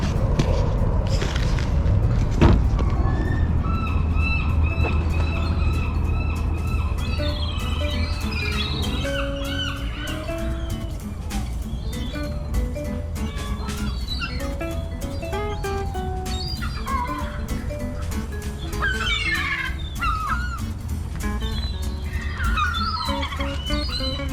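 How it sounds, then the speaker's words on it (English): Seagulls call repeatedly in the open air near a ferry terminal, with scattered squawks and cries over a steady low rumble of background traffic and wind. "The seagulls will swoop down, take the fries, take them out of your hand"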